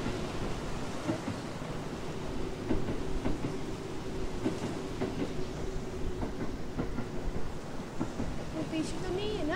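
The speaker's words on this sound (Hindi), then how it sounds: "ट्रेन जा रही है।" A train rolling past in the indie horror video game Burger and Frights, a steady rumbling clatter with rhythmic clicks that runs the whole time at moderate loudness, with a faint high whine near the end.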